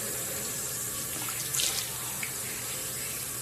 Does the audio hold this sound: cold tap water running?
yes